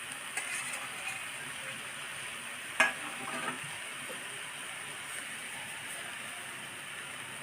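Amla pieces and sugar warming into a syrup for murabba are stirred gently in a pan, a faint steady bubbling hiss broken by a single sharp spoon clink partway through.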